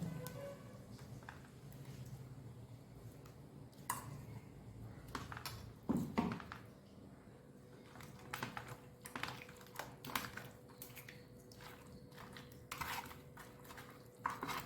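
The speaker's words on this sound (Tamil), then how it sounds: "நம்ம செஞ்சு வச்ச மசாலாவை இதில் பிசைஞ்சிடலாம்" Bare hands knead homemade masala with ginger and garlic into vaval (pomfret) fish, giving soft wet squelches and irregular clicky pats up close, with scattered sharper taps against a dish throughout.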